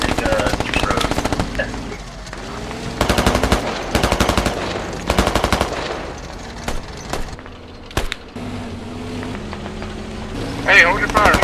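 Bursts of rapid automatic gunfire in a video game, loud and repeated in several sharp volleys with pauses between, while players talk over the shooting.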